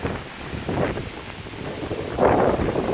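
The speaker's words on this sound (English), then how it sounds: "And here comes more wind." Gusty autumn wind blows outdoors in Pennsylvania, a steady roar buffeting the microphone that swells into a stronger gust near the end.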